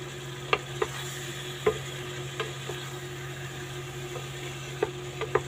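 Liver and vegetables fry quietly in a pan over a low hum, with occasional soft clinks and scrapes of stirring scattered through the sizzle.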